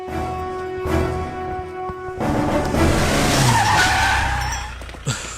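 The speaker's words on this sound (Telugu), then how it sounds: "ఏంటి సార్ సడన్ గా బండి ఇక్కడ ఆపేశారు?" A car brakes suddenly and its tires skid, a sustained screeching squeal over engine rumble that swells and then fades, ending with a brief thump; no one speaks.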